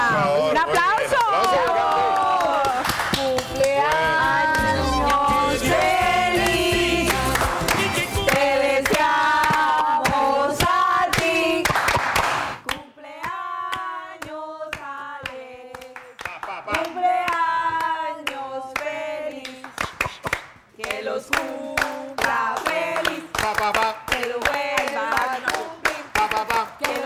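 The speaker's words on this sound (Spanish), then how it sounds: "¡Un aplauso!" Studio audience applause on a Colombian television crafts show, loud dense clapping for the first half that thins to scattered claps, with a host talking over it at times.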